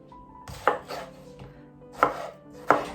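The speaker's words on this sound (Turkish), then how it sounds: "Domateslerimizi doğramakla başlayalım." A knife chops tomatoes into large pieces on a cutting board in a few separated strokes, sharp crisp cuts with pauses between them, close up and no talking.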